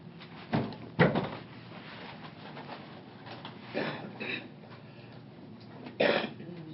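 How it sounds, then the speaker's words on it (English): A door closes in a quiet indoor room, with a few dull thumps and knocks spread out at irregular intervals and soft shuffling between them. "Door closed."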